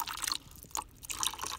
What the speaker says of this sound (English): So I'll put 1 cup of water in there.